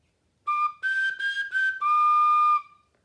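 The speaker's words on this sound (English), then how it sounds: "This teeny little recorder. Here's what it kind of sounds like." A tiny recorder with no thumb hole on the back plays a short run of clear, slightly breathy notes, each held briefly before a longer final tone, close and alone with no talking.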